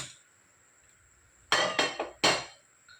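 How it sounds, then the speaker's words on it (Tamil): Several sharp metallic clanks close together, like a pot being set down and shifted on a gas stove grate, with near silence before. "இன்னொரு ஸ்டவ்வில் இன்னொரு பாத்திரம் ஏற்றிக்கிறேன்."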